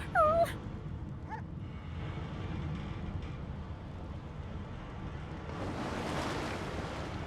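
A hound in a fantasy role-playing video game gives a few short whimpering yelps at the start, then fades into a steady wash of ambient game noise resembling distant surf, with no clear growl standing out.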